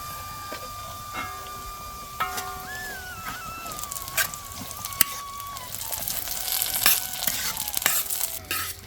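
Garlic frying in hot oil in a pan for a Kerala-style garlic pickle, a steady soft sizzle with occasional stirring scrapes and clicks that grows louder and hissier toward the end, with a faint tonal whine underneath.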